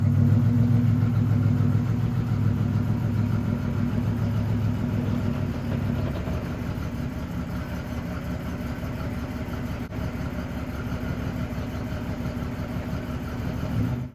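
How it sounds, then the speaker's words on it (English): A 1987 Buick Grand National Turbo T runs on a test drive, its engine a steady low rumble close by with a slight drop in tone partway through, no voices. "Let's take this thing on a quick test drive."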